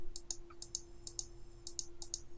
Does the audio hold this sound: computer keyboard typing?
yes